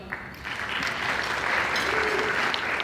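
Audience applause at a 43rd-year celebration for a reverend, a dense, steady wash of many hands clapping together that swells slightly and holds throughout.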